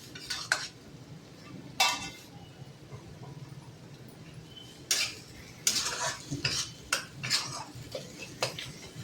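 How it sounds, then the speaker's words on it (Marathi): Garam masala for pav bhaji sautéed in a pan on high heat, quiet background sizzle broken by irregular metallic scrapes and clinks of a spoon stirring against the pan. "तर हे मसाला आपला मोठा गॅस करते, मसाला परतून घेऊया छान"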